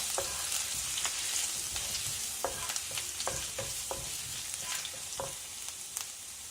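Ginger and garlic sizzle in hot oil in a pan for a vegetable kurma, a steady frying hiss broken by repeated clinks and scrapes of a spoon as the pieces are stirred, close and moderately loud, with no talking.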